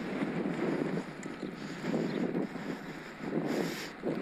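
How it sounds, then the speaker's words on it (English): Strong crosswind buffeting the microphone of a cyclist riding an e-bike along an open country road, a steady loud broadband rush that swells and surges in gusts throughout, with no talking. "It's super windy today."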